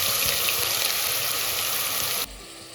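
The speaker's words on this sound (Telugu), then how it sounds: "ఇప్పుడు మనం ఉల్లిపాయ వేసుకుందాం." Chopped onions dropped into hot oil with mustard and cumin seeds, hissing in a steady loud sizzle that cuts off sharply near the end.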